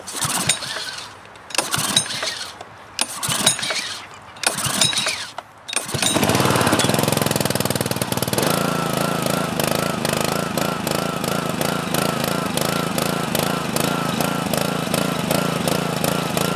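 A Troy-Bilt pressure washer's Honda GC160 engine, choked for a cold start, is pulled over with a few short recoil tugs, then catches and runs with a loud, steady mechanical drone for the remaining ten seconds.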